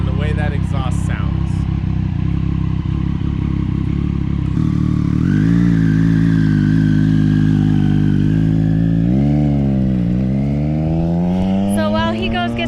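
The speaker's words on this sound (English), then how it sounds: "It's a major difference in the way that exhaust sounds." A Triumph 765 motorcycle fitted with a Toce exhaust baffle idles with a deep, throbbing exhaust note, then revs up in rising and falling blips, loud and close throughout.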